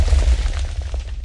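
A grenade blast in the OP Prison video game, a heavy low boom with rumbling decay over about a second.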